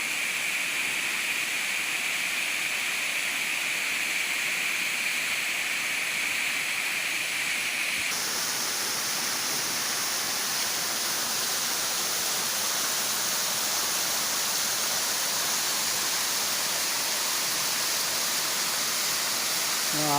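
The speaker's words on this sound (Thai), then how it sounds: "น้ำตกเนาะ" Tad Kon waterfall in Laos pours with a steady, broad rushing roar that fills the whole scene, constant and close, with no break and no voices.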